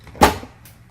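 A Samsung front-loading washer door, a 2019 model, pops open with one sharp latch click and a short thud up close, then a faint softer sound follows.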